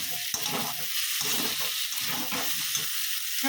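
Amudi fish fries in a pan with a continuous crackling sizzle, broken by soft stirring and shifting sounds.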